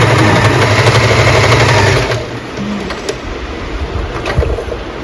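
An Usha Wonder Stitch Plus electric sewing machine runs loud and close with a fast, even whirring stitch for about two seconds, then stops, leaving faint handling clicks and a low background hum.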